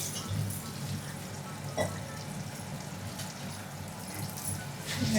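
Fish frying in a pan at home makes a soft, steady low sizzle with faint watery crackle throughout, fairly quiet, with one brief clatter and a slight swell near the end.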